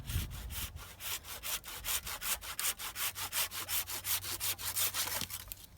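A hand saw cuts through a tree branch during farm tree trimming, with steady rhythmic back-and-forth strokes, close and fairly loud, after a brief rustle at the start.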